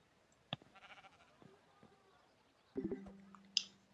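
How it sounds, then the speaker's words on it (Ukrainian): A sheep in the Minecraft video game bleats in short quiet calls, with a few soft clicks and game sounds around them. "Овечка тепер."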